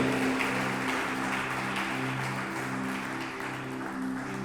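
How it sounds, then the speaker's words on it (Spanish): A church congregation applauds as an offering of praise. Steady, fairly quiet clapping mixes with a low sustained musical hum throughout. "Levanta una ofrenda de palmas a Él, reconociendo su poder y su valor."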